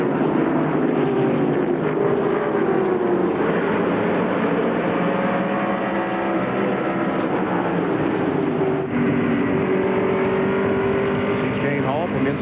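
Stock race cars in a 1995 All-Pro Series race at Bristol roar back to green-flag racing after a caution, a dense continuous engine drone with rising and falling pitch sweeps from cars passing close by.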